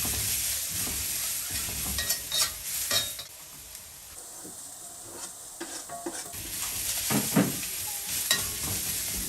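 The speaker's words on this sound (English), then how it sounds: "The trick here is to use a wide cooking utensil like the wok I have here, high heat, and to keep the veggies in constant motion to prevent them from burning." Broccoli, carrots and other vegetables stir-fried in a wok over high heat, a steady close sizzle broken by repeated scraping and tossing strokes of a utensil, with no one talking.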